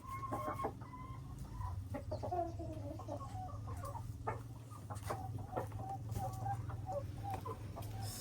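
Several chickens cluck close by on a small poultry farm in Ghana, with short irregular calls scattered over a steady low hum.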